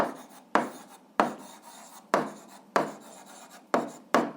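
Chalk or marker strokes as an algebra answer is written on a board: seven sharp rasping scratches in an uneven rhythm, close and fairly loud, each fading quickly.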